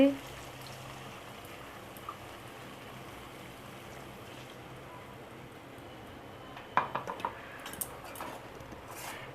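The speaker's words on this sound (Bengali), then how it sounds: "এই কষা হয়ে গেছে, এবার জল অ্যাড করে দিচ্ছি।" Water poured steadily into a pan of sautéed masala for meat-stuffed pointed gourd in yogurt gravy, a soft, even wash of hiss with a few faint clinks of the pan near the end.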